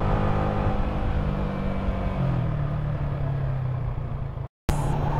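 A Yamaha Sniper 155R motorcycle with an aftermarket UMA back-pressure exhaust drones deep and bassy at a steady idle, then its pitch drops slightly before a brief cutout and return.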